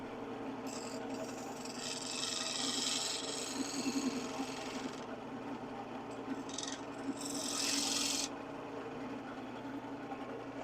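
A wood lathe spins steadily while a tool cleans up the face of a turned piece near the tenon, with a constant motor hum and rising bursts of hissing scraping as the cut engages, close and continuous.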